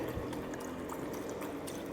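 Stock pours steadily into a container while preparing chicken and mushroom Alfredo with penne for freeze drying, giving a soft, continuous liquid splash and trickle that stays fairly quiet throughout.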